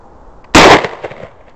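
A single loud blast from a Mossberg 20 gauge shotgun fired at a coffee cup target outdoors, a sharp close report followed by a short fading echo.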